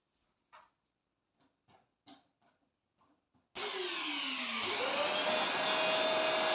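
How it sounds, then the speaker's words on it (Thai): A vacuum cleaner switches on with a sudden loud roar and its motor pitch sweeping upward, then holds a steady, close whine, after a few faint scattered knocks and movement sounds. "นี่ต้องใช้เครื่องดูดฝุ่นช่วย"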